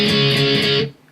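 A short, dense burst of distorted electric guitar from a song, loud and close, cut off abruptly after under a second.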